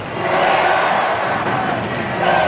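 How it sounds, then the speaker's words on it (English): A stadium crowd roars steadily for the Steelers during a 1992 rugby charity shield match, a dense, continuous cheer with no break. "Goes the cheer from the crowd now for the Steelers."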